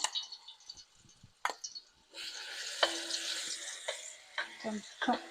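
Crushed garlic paste dropped into hot oil for a broad bean pickle, a quiet opening with small clatters, then a rising sizzle that continues with intermittent stirring clicks and scrapes.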